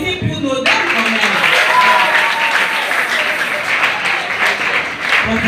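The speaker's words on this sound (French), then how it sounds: "Mais applaudissez pour nos dames quand même." Audience applause breaks out at a tribute event for women, including a Congolese pianist, continuing as steady clapping with voices talking beneath it.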